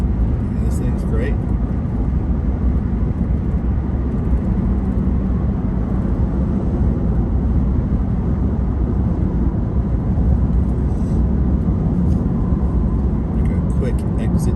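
A Ford F-150 Lightning electric pickup cruising on a road a little over the speed limit, with a steady low road and tyre rumble and wind noise running throughout.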